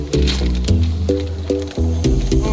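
Bird food pouring into a feeder, a close, loud rattling stream of seed with a few pulsed surges and brief pauses as it tumbles in.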